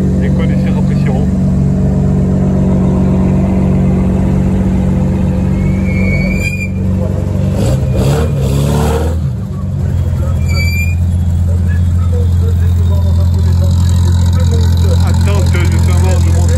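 A Ferrari Daytona's engine runs loud and steady at a classic car gathering, with a deep continuous rumble and a brief rise in revs partway through, while someone talks over it.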